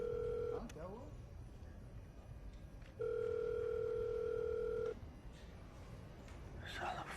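A telephone call is placed and rings unanswered in a Hindi police film, two long electronic ringback tones separated by a pause of low room noise, with a voice speaking near the end.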